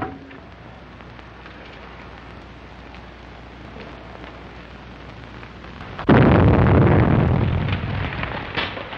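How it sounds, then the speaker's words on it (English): An explosion at 93 Madeira Drive in an old Hollywood crime film bursts out suddenly after a stretch of low, rain-like hiss. The roar is loud and broad and then slowly rumbles away. "Explosion in 93 Madeira Drive."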